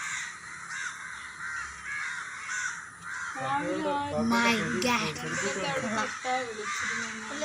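A large flock of crows caws together outdoors, a dense continuous chorus of overlapping calls that swells louder midway, with a person speaking briefly among them.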